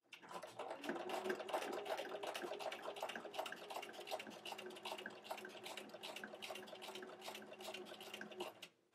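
Sewing machine stitching a flat felled seam on denim, a steady fast mechanical whir of needle strokes running close and continuous for about nine seconds, with no talk.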